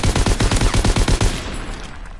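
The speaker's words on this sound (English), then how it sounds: "Lewis gun." A Lewis gun in Call of Duty WWII fires a loud, rapid string of about a dozen evenly spaced shots, then stops and leaves a short fading tail.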